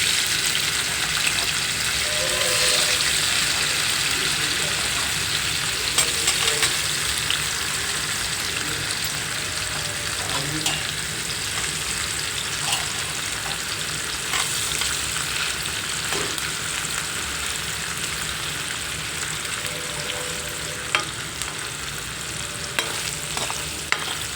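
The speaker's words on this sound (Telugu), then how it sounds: "అలాగే పన్నీర్ కూడా వేసుకుందాం" Paneer fries in a pan for a restaurant-style paneer and cashew curry, with a continuous soft sizzle and frequent scraping stir strokes over about 24 seconds, without any talk.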